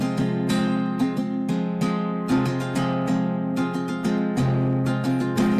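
An acoustic guitar is strummed on one chord without any palm muting, each rhythmic down and up stroke ringing out fully and letting the notes sustain between strokes, close and clear with no voices.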